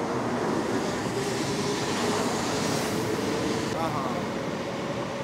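Taiwan High Speed Rail's first train pulls out of Banqiao station, a steady broadband rumble and rolling rail noise filling the scene, with a brief screech partway through and a murmur of voices underneath.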